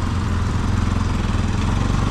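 A motorbike engine chugs steadily on a rough off-road trail through river and hill country near Mustang in Nepal, a close, continuous low throbbing with no talk.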